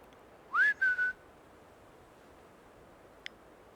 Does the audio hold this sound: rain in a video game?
no